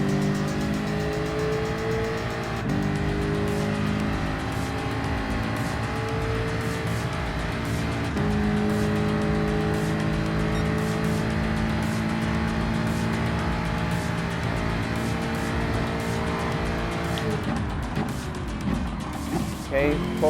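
A Gr.3 race car in Gran Turismo Sport laps the Mount Panorama circuit, its engine a steady loud drone that rises and drops with gear changes, with brief tire squeal near the end and a voice faintly under it.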